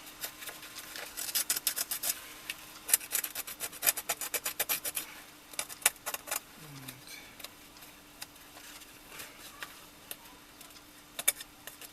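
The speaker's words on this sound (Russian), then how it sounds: "Потом точно так же ножичком зачищаем кромку, чтобы приклеилось хорошо." A small knife scrapes and cleans the edge of a sandal sole before gluing during a repair of a favourite pair of sandals, giving repeated close, rasping strokes in irregular bursts with no talking.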